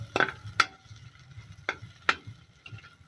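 Vegetables with garlic and onion are stirred in a pan, with four or five sharp scraping clacks of the utensil over a low steady sizzle, close by and with no talk.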